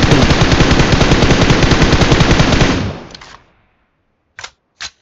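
Rapid automatic gunfire from a shooter video game, a loud sustained burst of densely packed shots lasting about three seconds, then a quick fade and two short, separate single bursts near the end.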